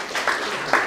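Audience clapping in a talk venue during a discussion of religion, a short burst of scattered claps that swells briefly and trails off, moderately close with no voices over it.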